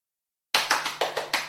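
A few people clap in short, uneven bursts after a moment of silence, with about five or six separate claps and no cheering.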